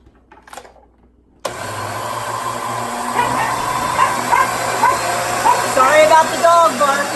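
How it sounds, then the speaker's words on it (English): A countertop kitchen blender switches on after a brief quiet moment and runs with a loud, steady motor whir while a dog barks and yips over it. "Helps if you plug the blender in before you try to blend it up."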